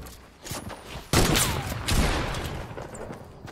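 A burst of rapid video-game gunfire from a sniper rifle sounds in a close, loud cluster of cracks, with a heavier shot about a second in and a trailing echo afterward.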